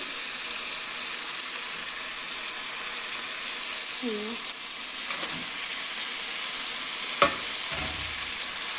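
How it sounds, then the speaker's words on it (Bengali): Fish frying in masala in a pan gives off a constant loud sizzle throughout, with a couple of faint knocks and a sharp click near the end. "এই যে দেখতে পাচ্ছেন আমার মশলাটা ভালোভাবে ভাজা হয়ে গিয়েছে এবার আমি মাছগুলো এক এক করে দিয়ে দিচ্ছি"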